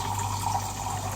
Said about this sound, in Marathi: आणि आता ह्याच्यात मी पाणी टाकते.